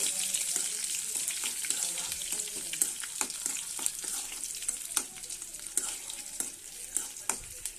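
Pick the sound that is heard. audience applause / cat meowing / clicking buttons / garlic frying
garlic frying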